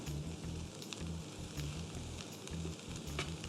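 Kimchi fried rice with bulgogi sizzles and crackles in a hot pan, a dense close frying hiss broken by a rhythmic low knocking as the food is stirred, with no voices.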